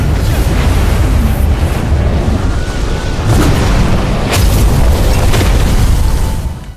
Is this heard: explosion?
yes